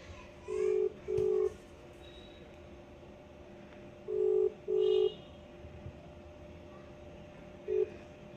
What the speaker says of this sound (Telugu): ఇక్కడ మా హస్బెండ్ దాంట్లో నుంచి అయితే వీడియో కాల్ అయితే చేస్తున్నాను